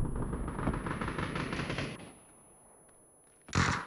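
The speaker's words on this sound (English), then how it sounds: "What was the explosion on that?" In the PUBG video game, a C4 explosion and gunfire roar in a dense rumbling burst that fades over about two seconds, then a second sharp, loud blast hits near the end.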